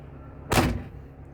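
Cab door of a Kobelco SK140LC-8 excavator swung shut once, a single short close thud against a quiet idling background.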